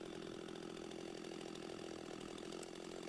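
A chainsaw cuts a curved saddle notch in wood with the top of the bar, its engine holding a loud, steady high whine throughout, close and alone without talk.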